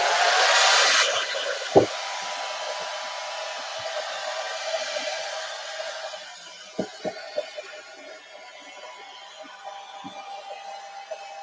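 A hair dryer blows steadily up close to dry ink on Yupo paper, a continuous airy roar with a few faint knocks and handling sounds.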